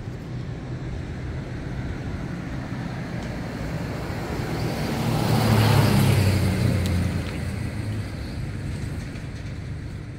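Road traffic passes through a town plaza in Yabucoa, a low broadband rumble that swells as a vehicle draws near and recedes around the middle, over a constant distant hum.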